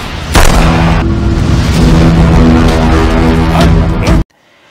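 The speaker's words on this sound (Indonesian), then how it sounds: "Yadi pun menyusun rencana dan menghadang iring-iringan mobil polisi yang membawa Suda dengan ledakan dan langsung melumpuhkan semua petugas" A loud explosion bursts and rumbles with a sustained roar and layered booms, then cuts off abruptly into near silence.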